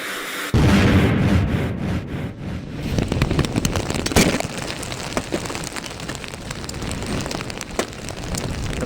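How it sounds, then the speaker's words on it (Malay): Blast sound effect of an explosion echoing through dense forest: a sudden loud burst followed by a sustained crackling, rumbling wash of falling debris that stays loud for several seconds. "Tepat jam 4 petang terdengarlah satu letupan bergema di dalam hutan tebal."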